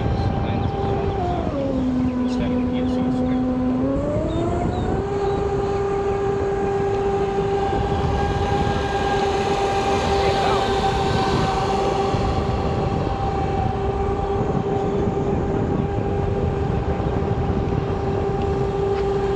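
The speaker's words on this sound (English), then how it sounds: "I'm full throttle right now." A Castle 1650kv electric motor in a SonicWake 6s RC boat at full throttle whines steadily, its pitch dipping briefly and then rising and holding, over loud continuous water and wind noise, with no talking.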